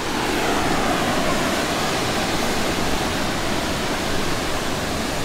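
Waterfall in Hilo, Hawaii, a steady, loud, even roar of falling water that fills the whole scene without a break.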